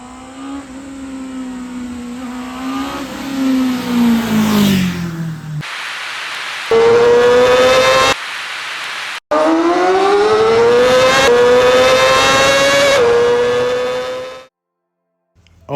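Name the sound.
Honda CBR650R motorcycle exhaust revving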